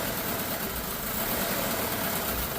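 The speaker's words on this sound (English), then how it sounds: "the engine's running rough and wants to stop" A car engine idles roughly and seems ready to stall, giving a loud, close, continuous rumbling drone with an uneven low throb that does not stop for the whole moment.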